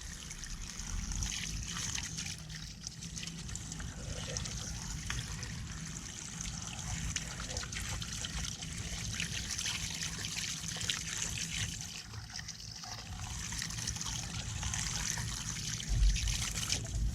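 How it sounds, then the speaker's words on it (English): Water from a hose rinsing a car wheel and its spoked rim, a steady close splashing and trickling spray running throughout. "Rinse her off again."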